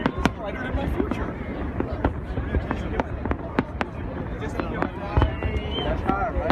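Macy's 4th of July fireworks display, a steady stream of sharp distant pops and crackles repeating every second or so, heard under nearby people chatting.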